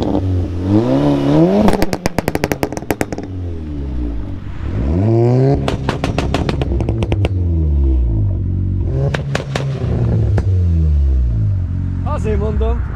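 A 2011 Seat Leon Cupra R with a 2.0 TFSI engine fires off bursts of sharp exhaust pops and crackles between revs. Rapid clusters of loud bangs sit among the engine note, and people talk throughout.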